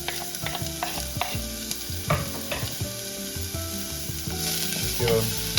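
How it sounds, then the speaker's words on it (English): Onions frying in olive oil on a Blackstone flat-top griddle, a steady close sizzle with scraping spatula clatter and scattered knocks throughout, no talking. "we're going to go ahead and add some olive oil just so we can cook the onions. And add our onions"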